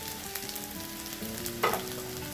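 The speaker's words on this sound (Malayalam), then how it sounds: "ഇതൊന്ന് ഇതിൻ്റെ പച്ചമണം പോകുന്ന വരെ ഒന്ന് വഴറ്റിയിട്ട് തക്കാളി ചേർക്കാം" Chili, coriander and turmeric powders sauté with ginger-garlic paste in a pan for a Kerala dry anchovy and egg curry, giving a steady close sizzle with one brief louder stir or scrape near the end.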